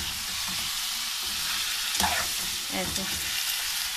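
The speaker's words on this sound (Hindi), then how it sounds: "चम्मच चलाते रहेंगे ताकि वो जो है नीचे से चिपके ना" Beef for nihari frying and sizzling steadily in a pot, with a spoon stirring and scraping the bottom every so often; a brief spoken word cuts in over the constant crackle.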